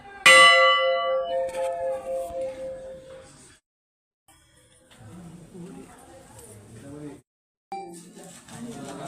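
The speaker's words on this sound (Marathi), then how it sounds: "घंटा किती छान आहे त्या घंटेचा आवाज पण खूप छान घुमतो" A temple bell at the Chintamani Ganesh temple in Theur strikes once loudly and rings on with a long, slowly fading resonance, followed by temple crowd noise and voices.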